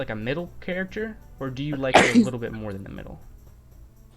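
A single loud sneeze bursts out in the middle of a casual conversation, sharp and close, with people talking just before and after it.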